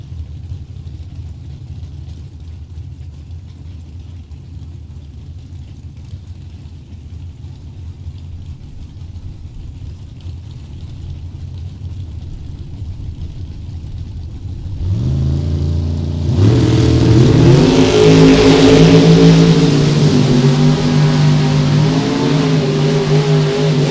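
Two drag racing cars, a Camaro and a wagon, launch in a Super Pro race: a low idle rumble builds, then both engines roar hard and rise in pitch for several seconds, loud and close.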